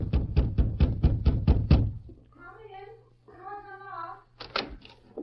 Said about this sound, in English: the masked man knocked on the front door